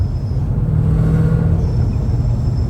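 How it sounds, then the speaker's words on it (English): A supercharged Ford Mustang GT exhaust rumbles deep and loud from close by, a steady low drone with slight rises in intensity and no voices. "give y'all some more clean downshifts real quick"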